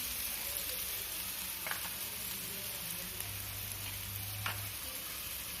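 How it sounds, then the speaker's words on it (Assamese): Sliced onions sizzling in hot oil in a pan, a steady close crackling hiss that runs unbroken, with no talking. "পিঁয়াজখিনি কিছু সময় ভাজিম আমি ৰঙচুৱা হোৱালৈকে।"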